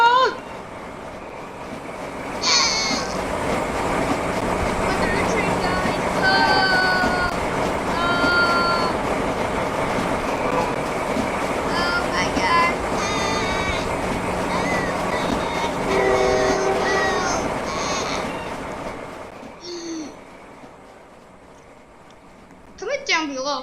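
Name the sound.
train passing by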